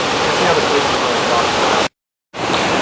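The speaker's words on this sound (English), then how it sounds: "This is an evening view of the waterfall behind our tents." A waterfall behind a backcountry campsite in Colorado's Weminuche Wilderness roars in a steady, loud broadband wash. A short dropout of silence breaks it before the rushing water resumes.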